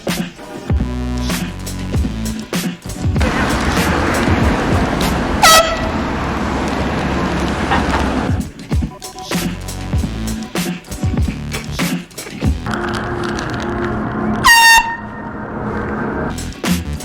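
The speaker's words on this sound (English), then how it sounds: "Air horn is loud." Several loud air horn blasts sound up close, long blaring bursts separated by short gaps, with squeaky noises and rustling in between.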